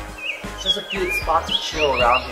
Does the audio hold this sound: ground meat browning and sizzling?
no